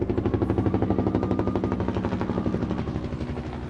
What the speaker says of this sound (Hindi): यूक्रेन ने यहां बैटल ग्राउंड में एक साथ Mi-8 हेलीकॉप्टर्स को उतार दिया है